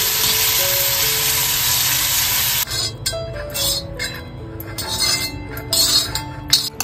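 Tomatoes and cashews sauté in a hot pan, a loud, continuous sizzle and fry at first, then stirring with clinks of a utensil against the pan over a quieter sizzle.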